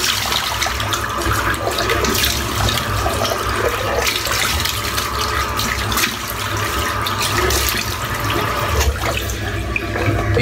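Warm water running steadily from a bathroom tap, a close, continuous splashing stream that pours without pause and without talk.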